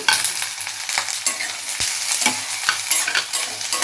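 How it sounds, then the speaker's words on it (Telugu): Chopped onions and green chillies fried in hot oil and stirred, with a loud continuous sizzle broken by scraping stir strokes against the pan, and no voices. "ఇప్పుడు ఈ తరిగి ఉంచుకున్న ఉల్లిపాయ ముక్కలు వేద్దాం."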